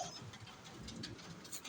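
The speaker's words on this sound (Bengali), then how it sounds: "প্রচুর বৃষ্টি হচ্ছে, প্রচুর আস্তে আস্তে বৃষ্টি বেড়ে যাচ্ছে" Heavy rain falls in a Saudi desert village, a faint, dense patter with a soft low rumble beneath and scattered brighter drops.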